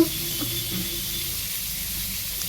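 Raw banana slices frying in a pan, giving a steady, even sizzle and soft hiss throughout the short stretch, with faint kitchen clatter underneath and no talking.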